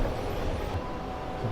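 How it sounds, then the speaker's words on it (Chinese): A Changchun Metro Line 1 subway train rumbles steadily in a low, dense roar, fairly quiet and continuous throughout with no talk. "地铁1号线。"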